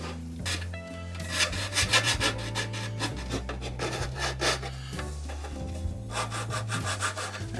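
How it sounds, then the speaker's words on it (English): Close, rhythmic scraping strokes of sanding a support piece on a U.S.S. Reliant model kit, the rasping passes repeating unevenly and loud, with no talking. "anytime I'm sanding this support or anything"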